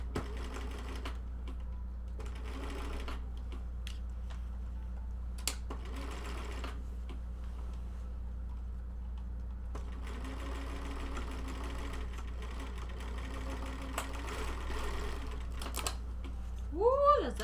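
A sewing machine stitches cosplay lining in short, intermittent bursts over a constant low hum, with a person talking at times and a brief high squeal near the end.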